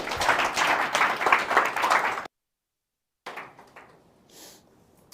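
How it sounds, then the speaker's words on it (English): Applause from an audience at a meetup talk, a short, dense burst of clapping that stops abruptly, followed by a pause and faint room noise. "Big round of applause."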